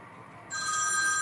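A smartwatch's find-my-phone feature sets a phone ringing nearby, a steady bright electronic ring tone starting about halfway through and continuing alone, moderately loud.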